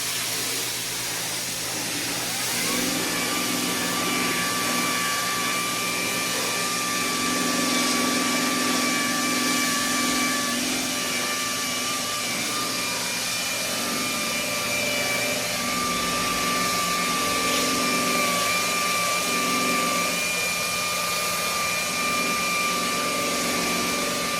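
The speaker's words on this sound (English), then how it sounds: "I'm gonna get my DA and go over with some glaze" A dual-action polisher runs steadily as glaze is worked onto a car headlight during restoration, giving a continuous whirring hum with faint hiss that swells and eases slightly across the whole stretch, with no talk.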